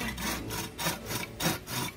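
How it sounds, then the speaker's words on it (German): A hand saw cuts through wood for a raft outdoors, a close, raspy back-and-forth rhythm of about four strokes in two seconds, with no voices. "Nee, okay. Müssen wir sägen."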